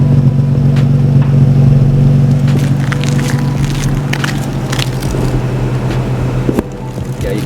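A car with a muffler delete exhaust idling, a loud, deep, continuous rumble with crackling texture that stays steady, then dips slightly near the end.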